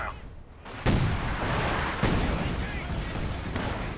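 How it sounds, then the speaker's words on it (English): A T-70 tank is destroyed in the Company of Heroes 2 strategy game. A loud boom lands in the middle of continuous battle noise, a second blast follows, and heavy gunfire and explosions rumble throughout. "T-70 gets destroyed finally"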